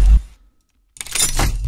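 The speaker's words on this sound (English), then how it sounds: "And then we have this other lockdown sound that sounds like this." Lockdown sound effect made for a title animation: a short low thump that fades to near silence, then a bright, crunchy metallic burst that swells and holds. The sound is brief and has no talking.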